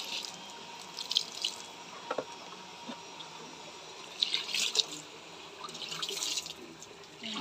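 Water is poured over plants, a quiet splashing and trickling in uneven bursts with scattered drips, close by and with no talking.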